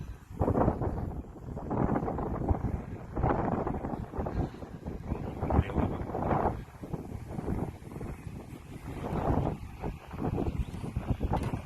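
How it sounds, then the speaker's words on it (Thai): Strong outdoor wind batters the microphone in a park, producing loud, continuous rumbling gusts that rise and fall throughout with no clear pauses. "ลมแรงครับผม"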